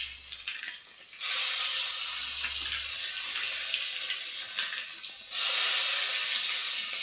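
Onions sautéing with ginger garlic paste in a pan give a steady, fairly loud broadband hiss. It drops briefly, then comes back stronger, with no talking over it.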